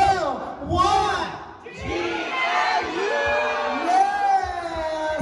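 A crowd of fans at a cinema cast arrival shouts and cheers in loud unison, whooping bursts rising and swelling across the whole moment.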